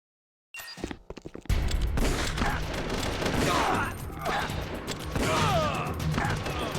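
Dense, sustained gunfire in Metal Gear Solid: The Twin Snakes, a continuous rattling fusillade following a few brief mechanical clicks, loud and steady throughout with no talking over it.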